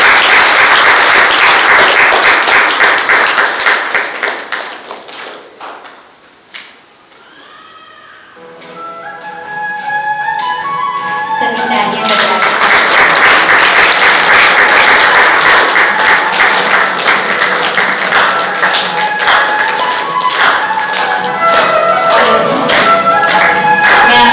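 Loud applause from guests welcoming an honored woman at a housewarming, a dense burst of clapping that dips briefly, then swells again into sustained clapping with some tonal music or sounds mixed in.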